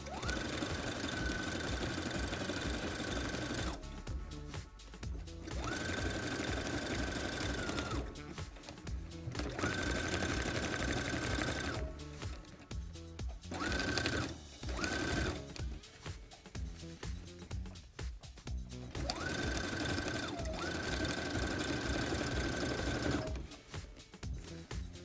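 A Brother CS7000i sewing machine stitches vinyl onto a cowboy hat crown in repeated runs of close, steady whirring, broken by short pauses and soft handling noises.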